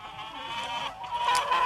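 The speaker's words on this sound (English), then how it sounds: "That's when the chickens should come in." A cluster of chickens clucking and murmuring continuously, fairly close, with brighter squawks rising toward the end.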